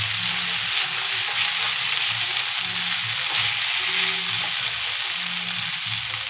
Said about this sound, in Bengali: তাওয়াটা ছোটো বলে একটু অসুবিধা হচ্ছে, তাও আস্তে আস্তে ভেজে নিলে রেডি হয়ে যাবে।